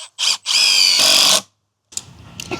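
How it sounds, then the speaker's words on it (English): Power drill driving a screw into a block for TimberTech Classic Composite railing: a short burst, then a longer steady whine that cuts off, followed by faint handling noises. "Put your screw in."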